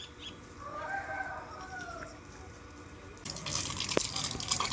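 Village chickens near the house cluck and call softly at a distance, a few short murmuring notes over low background noise, followed by a louder rustling clatter.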